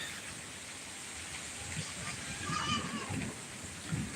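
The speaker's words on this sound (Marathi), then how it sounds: "बघा आला आत्ता जोरदार पाऊस आला" Heavy rain pours down with hail beginning to fall, a steady broadband hiss of drops on surfaces that swells slightly midway, while a person talks over it.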